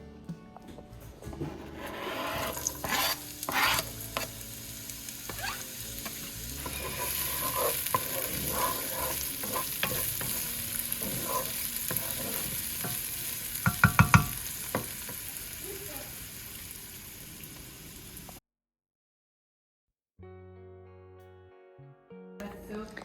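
Swiss chard and beans sizzle in vegetable oil while being stirred, a steady frying hiss with scraping and clattering utensil strokes. It cuts to brief silence before other sounds pick up again.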